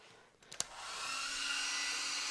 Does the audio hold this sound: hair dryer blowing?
yes